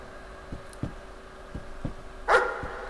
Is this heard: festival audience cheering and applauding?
no